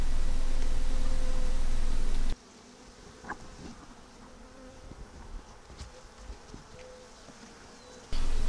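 Honey bees buzz close around an open beehive during an inspection, a loud continuous hum at the start and end with quieter scattered buzzing and faint handling noises in between.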